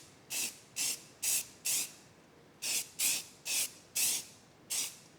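Spray can laying a heavy first coat of paint on a car body panel over a rust repair: nine short hissing bursts in two groups, close and even, with brief pauses between them and no talking.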